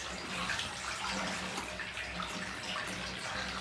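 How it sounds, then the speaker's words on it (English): Water pours from a tap into a bathtub with a built-in overflow fill, a steady close rushing and splashing that continues without pause. "Right, so we're filling the bath, we're checking the waste."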